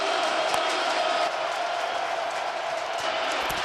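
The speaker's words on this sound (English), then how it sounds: "we hear the crowd getting louder and louder and louder, especially on a critical 3rd and long" A stadium crowd at an XFL football game roars as a continuous, loud, broadband wash of cheering and noise, with no clear individual voices.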